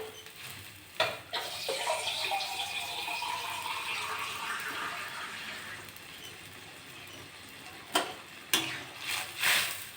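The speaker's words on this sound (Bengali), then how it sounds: "আমি একটু জল দিয়ে দেবো" Water splashes and hisses steadily into a cooking pot of fried mung lentils, a continuous pouring with a few clinks of metal near the start and end.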